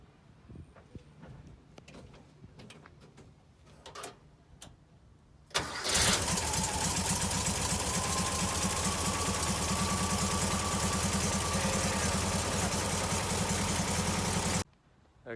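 A 1967 air-cooled VW bus engine, freshly fitted with a new starter, cranks and catches after some clunks and rattles, then idles loudly and steadily for about nine seconds before cutting off abruptly.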